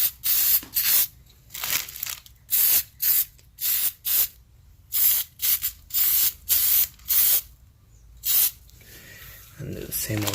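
An aerosol spray can sprays cleaner onto new brake pads and rotors on a 2010-2016 Hyundai Elantra in a dozen short, close hissing bursts with brief pauses between them, followed by a quieter rustle at the end.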